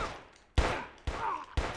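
Three sharp gunshots from a PlayStation shooter game, spaced about half a second apart, each a loud crack with a short ringing decay.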